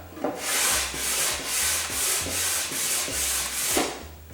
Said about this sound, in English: take the Fastcap Fast Break. It's a sander it's going to soften the edge on both sides at the same time.